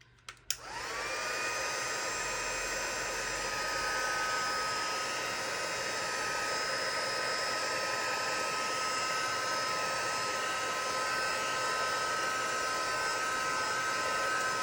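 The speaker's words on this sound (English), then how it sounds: "Give it a hit with the heat tool." A heat tool blows hot air steadily to dry stamped ink on translucent vellum, a loud continuous whirring hiss with a whining tone that starts abruptly and holds unbroken near the mic throughout.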